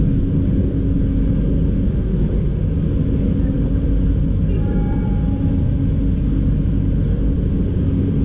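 Steady, loud rumble of a moving Papandayan economy-class train heard from inside the dining car, with continuous low wheel-and-track noise and no pauses throughout.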